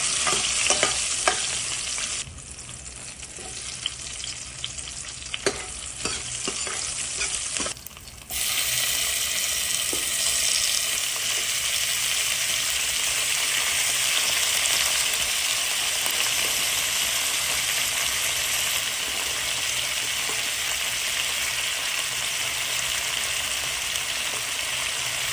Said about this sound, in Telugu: తర్వాత ముందుగా చూపించిన ఆనియన్స్ అండ్ వెజిటబుల్స్ ముక్కల్ని వేసుకోండి.